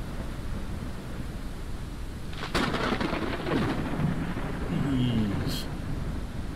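Thunder rumbles through a storm with steady rain hiss in the video game Forever Skies, a rolling crack building midway and lingering, with faint bird-like calls and a voice in the background.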